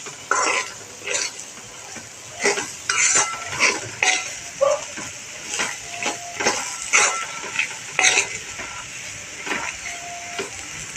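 Grated coconut sautéed with sweet masala in a pan after chickpeas, with repeated clinks and scrapes of a spatula against the pan and a soft sizzle underneath, close and steady throughout.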